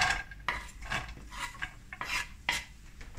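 Chopped onion goes into a pan during home cooking of a vegetarian meat dish, with scraping and stirring clatter of a utensil against the pan in short, uneven strokes, close and moderately loud.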